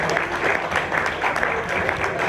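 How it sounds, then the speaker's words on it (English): A round of applause from an audience at a comedy and philosophy show, brief, steady clapping from a crowd, loud and close, with no talk over it. "So just give those people a round of applause for actually telling the truth."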